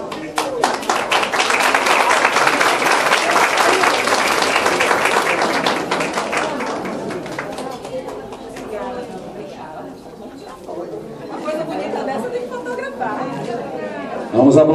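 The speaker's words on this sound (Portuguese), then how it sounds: "Vamos aplaudir então a homenagem" Audience applause and clapping at a ceremony honoring a secretary during a headquarters inauguration, a dense burst for about six seconds, then fading into scattered claps, crowd chatter and bird coos.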